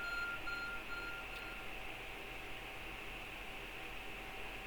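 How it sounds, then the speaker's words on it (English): Beeping from the ARC phone in the video game Pokemon Legends Arceus, a faint repeating electronic tone chirping a few times early on over a steady hum of game ambience. "Your ARC phone is beeping."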